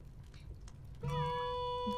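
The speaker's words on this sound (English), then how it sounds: "Kitty." A cat in the video game Wandersong lets out a clear, close meow with a sustained tonal cry after a quieter stretch of soft background sound.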